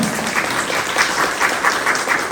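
An audience at a community cultural program briefing claps in a steady, dense burst of applause, fairly loud and close, with no voice over it.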